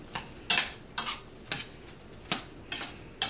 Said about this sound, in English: What we're going to do now is go ahead and add a cup of breadcrumbs, and we're going to stir that in.